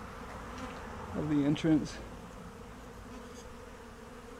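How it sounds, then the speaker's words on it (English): Honeybees swarm around the entrance of a beehive, giving a steady, close buzzing drone throughout, with a short stretch of talk partway through. "You can see the bees coming out of it."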